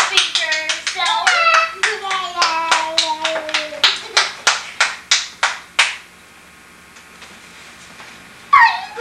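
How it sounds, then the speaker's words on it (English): Steady hand claps repeat for several seconds, close by, at a child's first birthday, while a child makes high whiny vocal sounds over the first part. "He's clapping for himself"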